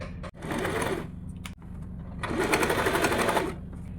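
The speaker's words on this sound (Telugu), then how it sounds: "ఇలా కొద్ది కొద్దిగా క్లాత్ని లోపలికి అనుకుంటూ ఇలా స్టిచ్ చేసుకోవాలి" An electric sewing machine stitches blouse fabric in two close, steady mechanical bursts split by short pauses, its rapid needle chatter loud and even, with no voices.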